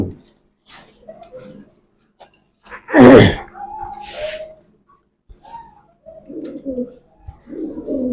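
Fancy pigeons at a sale coo close by in soft, low, throaty phrases repeated over several seconds, with quiet gaps in between.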